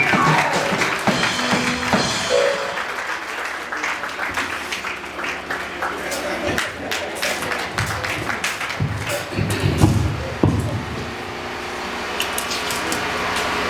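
A church congregation applauds and cheers in acclaim, a dense wash of clapping with scattered thumps and shouts that swells and then fades near the end.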